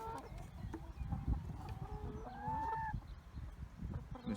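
A flock of chickens in a backyard chicken tractor clucks and calls in short, bird-like tones, moderately close, over a steady rumble of outdoor background noise.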